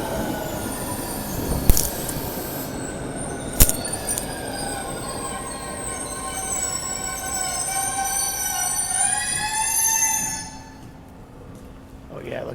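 A passing electric train with steady rumble, rising whine and brief metallic squeals, fading out near the end; voices murmur faintly in the background.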